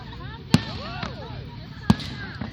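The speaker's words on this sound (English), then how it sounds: "Ain't them pretty fireworks?" Fireworks exploding outdoors: two sharp, loud bangs about a second apart, with people chattering and calling out continuously around them.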